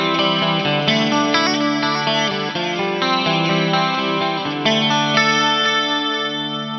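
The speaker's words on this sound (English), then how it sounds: "we are feeding the chorus line into the delay line" Electric guitar played through a Fractal AM4 with the chorus line feeding into a delay line, sustained shimmering chords and notes with a wavering chorused sheen and trailing echoes, loud and continuous with no talking.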